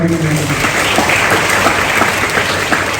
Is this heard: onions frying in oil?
no